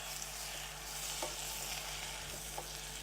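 Spinach cooks in butter in a pan and is stirred, giving a soft, steady sizzle with occasional light scrapes of the stirring, quiet and without voices.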